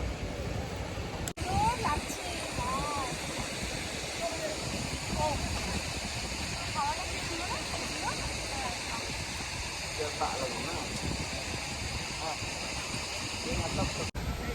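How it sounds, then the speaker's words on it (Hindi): Waterfalls and a river in full flow near Dawki, Meghalaya, send up a loud, continuous rushing roar that stays even and unbroken from start to finish. "सारे झरने भर के चल रहे हैं तो नदी के अंदर भी खूब सारा पानी है"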